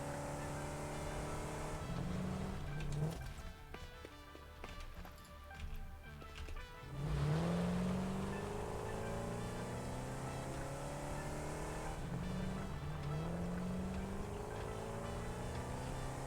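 Vehicle driving in the factory-building game Satisfactory, a steady engine drone with rising pitch sweeps as it accelerates, briefly dropping and then surging again, continuous and fairly close with no talk.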